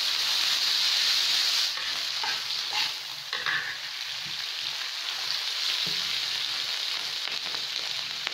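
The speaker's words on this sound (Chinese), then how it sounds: "炒好了腊肉，然后放入蕨菜" Fern shoots and cured pork stir-fried with chili in a wok, a steady loud sizzle with scraping stirs and occasional clinks of the spatula, no talking.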